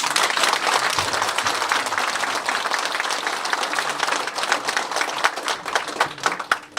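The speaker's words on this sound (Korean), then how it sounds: "임호선 의원에게 박수 좀 쳐주시죠" Audience clapping for a politician at a campaign office opening, a dense steady round that thins toward the end into a few separate sharp claps.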